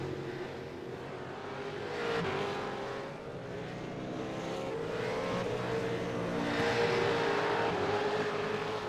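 V8 Supercars race cars at Barber Motorsports Park drone past at a distance, engine notes rising and falling as they come and go, continuous and moderately loud with no talk.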